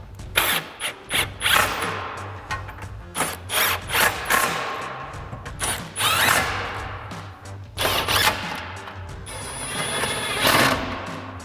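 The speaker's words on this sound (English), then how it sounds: "we'll start tightening them down with our 13 mil socket and our impact for these outer ones" An impact wrench with a 13 mm socket drives bolts home while installing fog lights on a 2019-2024 RAM 2500, firing in short loud bursts separated by brief pauses, with a ratcheting whir between rattling hits.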